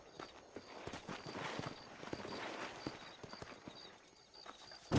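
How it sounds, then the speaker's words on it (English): Horse hooves clip-clop in the Western video game Red Dead Redemption, a steady, fairly close walking rhythm of sharp hoof strikes over a soft outdoor ambience, with a louder thump at the end. "These are fine horses."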